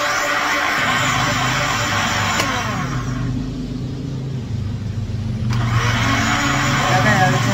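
A kitchen blender motor runs at high speed while making a breakfast drink with fruit, a loud steady whirring drone with a brief dip mid-run before surging back, no talk over it.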